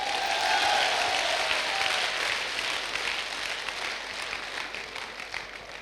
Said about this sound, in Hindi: ताली हो जाए आप लोगों के लिए।